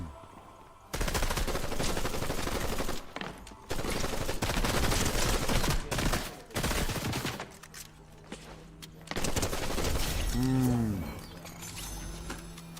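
Rapid bursts of automatic gunfire, loud and close, repeating in several clusters with short gaps, followed by a lower, droning tonal sound near the end.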